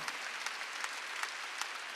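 A church congregation at a Wednesday worship service claps together, a brief steady wash of many hands with a few sharper accents, fairly even in loudness throughout.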